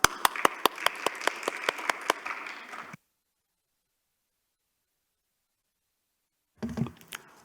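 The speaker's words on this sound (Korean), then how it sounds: "우리 큰 박수로 최명숙 위원장님 말씀을 들어보도록 하겠습니다." A small forum audience gives a few seconds of sharp, distinct claps, close and fairly sparse, before cutting to silence and then a brief burst of other sound at the end.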